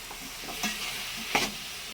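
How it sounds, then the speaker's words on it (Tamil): Tomatoes sautéing in a pan for brinjal thokku, a continuous close sizzle with a few scraping stirs of the spatula, no voices, ending abruptly. "தக்காளியும் சேர்த்து வதக்கிடலாம்"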